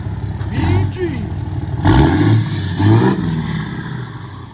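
A 2015 RAM 3500 with a 6.7-litre Cummins diesel and 4-inch straight pipes revs in three short, deep bursts close by, with a rumbling idle between them and people talking over it.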